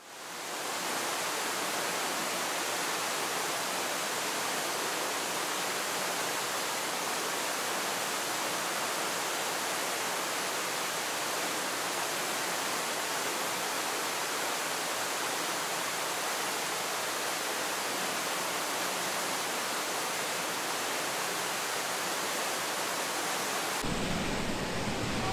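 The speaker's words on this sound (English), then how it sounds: "just at the bottom of the site is down here a little waterfall section." Continuous rushing water from a small waterfall, a steady broadband hiss that holds evenly for the whole stretch, with no voices.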